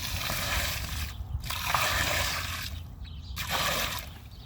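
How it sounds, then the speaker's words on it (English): Water poured into a freshly dug hole for planting a mulberry tree, an uneven running splash with short pauses between pours, fairly close. "I like to put water in that hole already,"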